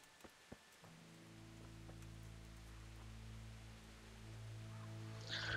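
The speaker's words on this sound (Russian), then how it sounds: "Опять дождь пошел." Steady rain in a medieval simulator video game hisses across the whole stretch, with a low drone underneath and a couple of faint taps near the start.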